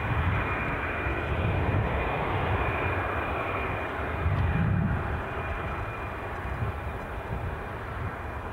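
An aircraft approaching Edinburgh Airport makes a steady, fairly loud engine roar that swells briefly and then holds on without break.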